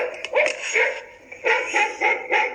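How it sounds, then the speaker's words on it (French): A dog barks in a quick series of sharp, yappy barks, close and moderately loud, with short pauses between bursts. "C'est le cri là, c'est les aboiements là."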